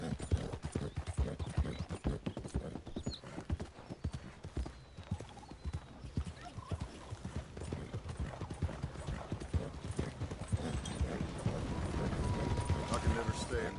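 Horse hooves clip-clop steadily during riding across a large open map in a PS4 video game, with a regular rhythm. Occasional game sounds and a voice talking run alongside.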